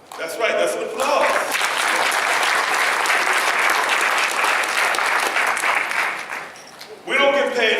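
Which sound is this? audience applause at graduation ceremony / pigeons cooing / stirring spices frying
audience applause at graduation ceremony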